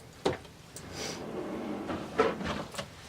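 A makeup storage drawer being opened or closed, giving a few short knocks and sliding rattles close by, with one sharper thump near the start and another later, against a quiet room.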